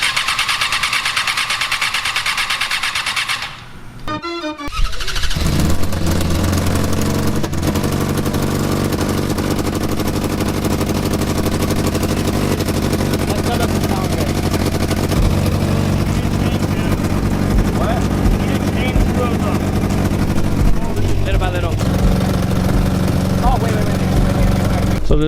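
A Formula SAE race car with a new exhaust cranks briefly, catches, and settles into a loud, steady idle with a rough throbbing drone, voices faintly audible nearby.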